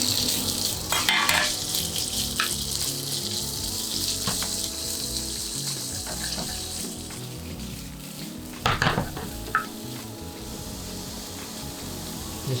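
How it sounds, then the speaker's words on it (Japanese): Shrimp seasoned with cumin sauté in a pan with a steady crackling sizzle, broken by occasional clinks and scrapes of a utensil against the pan. "クミンかけてソテーしていく予定なんですけど"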